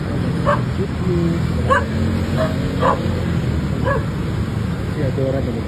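Dogs bark repeatedly in short yips along a road, spaced roughly a second apart, over steady traffic rumble and background noise.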